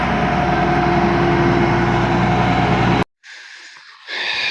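A John Deere 2264 combine's engine idling, a steady, loud broadband drone with a constant hum, cutting out abruptly partway through, then followed by quieter hiss and a fainter return of sound.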